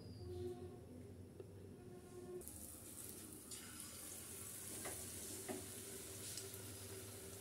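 Cauliflower pakoras coated in batter frying in hot oil, a continuous crackling sizzle with bursts of bubbling as pieces are dropped in one by one, close and steady.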